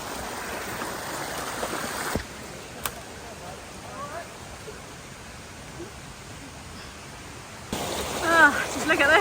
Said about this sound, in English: In the forest, the water is just flowing.